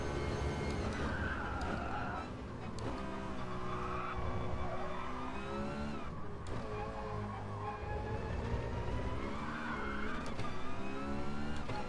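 A race car in the GT Sport racing video game sustains a steady engine roar while sliding through a corner, its tires squealing intermittently as the revs rise and fall, with occasional talk over it.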